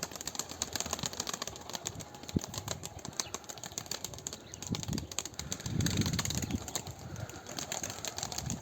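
Young Firtina pigeons in a loft, soft fluttering wingbeats and scattered flapping bursts close by, with a light cooing and a steady high hiss in the background, no talking.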